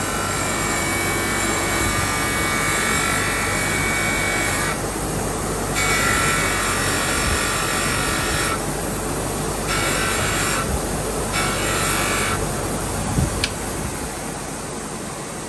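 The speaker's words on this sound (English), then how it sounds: "deburr it first with a wire brush on a grinder before I blast it" A wire brush spinning on a grinder deburrs a laser-engraved logo on a blade, a loud continuous whirring hiss with the scratchy brushing rising and easing in short stretches as the piece is worked.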